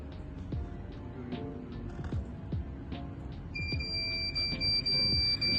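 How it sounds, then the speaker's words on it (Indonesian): A smart home system's electronic gas sensor alarm, triggered by gas from a gas lighter, beeps in a steady repeating pattern, then a shrill continuous tone joins in, fairly close, with background noise and no speech. "Jika sensor mendeteksi adanya gas, maka alarm akan berbunyi"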